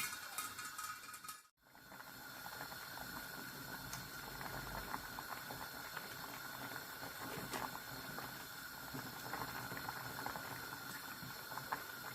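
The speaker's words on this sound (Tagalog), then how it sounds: "Pakuluan ko lang ng ilang minuto" Salmon sinigang soup with gabi and pak choy boiling in a pot, a steady close bubbling and simmering with faint rattling of the lid, continuous after a brief drop near the start.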